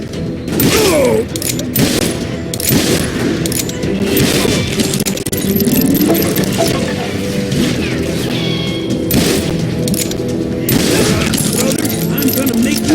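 Gunfire in the Western game Call of Juarez Gunslinger, repeated shots and booming impacts layered under shouted dialogue and busy battle noise throughout.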